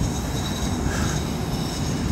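A tram runs on rails through Vancouver with a steady, loud rumble of wheels and a faint squeal, continuous and close with no voices.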